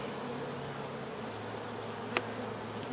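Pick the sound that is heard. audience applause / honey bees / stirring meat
honey bees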